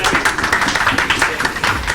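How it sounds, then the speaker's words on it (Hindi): A short burst of clapping from a small group at a student meeting, quick and uneven, close by, with some voices mixed in. "ताली बजा दो भाई"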